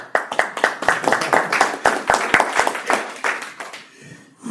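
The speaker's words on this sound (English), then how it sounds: "I'll clap for you." A few people clap together in an uneven burst of applause, lively at first and tapering off toward the end.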